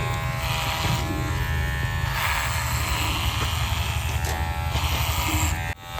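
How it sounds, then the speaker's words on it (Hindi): An electric trimmer clips a dog's hair, giving a steady, close, loud buzz that runs almost unbroken and dips briefly near the end. "अभी आप देख पा रहे हैं हम लोग एंजल के हेयर ट्रिम कर रहे हैं"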